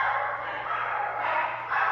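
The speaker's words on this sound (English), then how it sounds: "the dogs are barking" Dogs bark in a steady, dense, muffled stream that sounds somewhat distant and fills the whole stretch without clear breaks.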